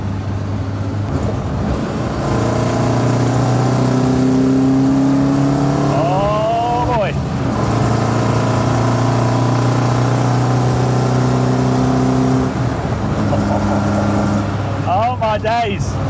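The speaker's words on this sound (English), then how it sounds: "Let's just enjoy a drive along this beautiful bit of road in this stunning, stunning car" A 1972 BMW 2002 engine pulls and revs steadily while driving along a road, a continuous loud drone with rising and falling tones as it accelerates through the gears, heard up close from inside the car.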